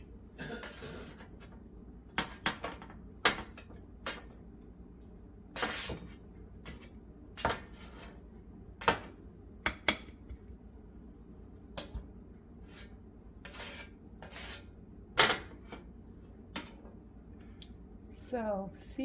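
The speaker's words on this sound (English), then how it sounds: "now I'm just going to slide them off into a plate, and none of them are stuck" Roasted vegetables slide off a Benicci baking sheet onto a plate, giving scattered soft taps, scrapes and clinks of metal on a plate in a quiet room.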